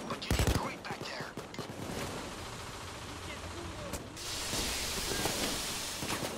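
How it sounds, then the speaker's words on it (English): Gunfire during a bank heist in the video game PayDay 2, with a sharp burst of close shots at the start followed by a steady rumble of ongoing firing and noise. "I'm getting shot at."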